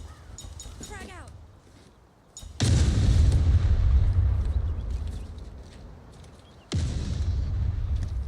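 A frag grenade goes off in a shooter video game, two heavy booming blasts several seconds apart, loud and close. Faint chirps and rustling fill the quieter stretch before them.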